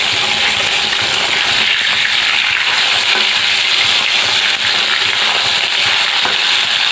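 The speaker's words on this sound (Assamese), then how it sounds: "এইফালে মই মাছ কিপিচ ভাজি লৈছোঁ" Pieces of fish fry in hot oil in a home kitchen, making a loud, close, continuous crackling sizzle. Sharp spits and pops break through the steady hiss, and no one talks.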